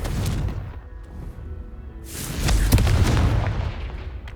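Confringo fire spell blasting in Hogwarts Legacy, heard as a loud booming burst that swells and rumbles for a couple of seconds over lingering game ambience.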